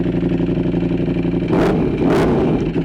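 A warmed-up Ducati V4 motorcycle engine runs close by with a steady, throbbing idle, broken by two short, sharp revs that rise and fall.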